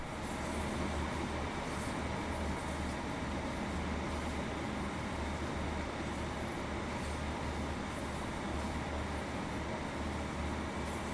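Train in Train Sim World 4 runs along the West Cornwall line, a steady loud rumble of wheels and motor with rhythmic rail clatter throughout, heard from inside the cab.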